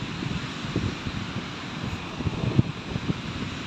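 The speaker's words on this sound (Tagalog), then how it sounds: "Lakas ng hangin." Strong wind gusts on a beach with heavy waves at Kalingap, blowing steadily as a broad rushing roar with low buffeting thumps against the microphone, no voices.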